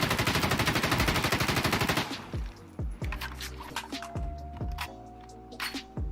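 Rapid automatic rifle fire in Insurgency: Sandstorm, an M4A1 or G36K, fires a loud sustained burst for about two seconds. Several sharp single shots follow with ringing echoes and clinking casings.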